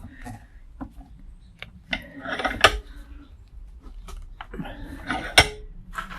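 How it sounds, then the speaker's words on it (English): A metal shaft from a scrapped blender is set and clamped into a bench vise, producing a few sharp metallic clanks and scrapes with quieter clicks and handling noise between them. "I'm going to go ahead and I'm going to place this shaft in the vise to keep it from spinning"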